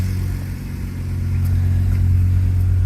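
Car engine, a six-cylinder now running on all six cylinders, idling with a low steady hum, then revving up gradually to a higher, louder drone near the microphone.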